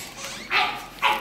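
A person imitates a barking dog, two short yappy barks like an anxious chihuahua, close and fairly loud, separated by a brief pause.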